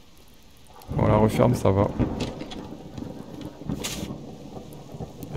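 Rain pours steadily inside a player's base in the Subsistence survival game, a continuous wash of noise heard beneath French conversation.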